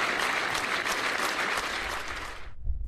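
A crowd gathered at a memorial tribute for a 37-year-old police officer applauds steadily, then the clapping stops abruptly near the end, leaving faint low rumble.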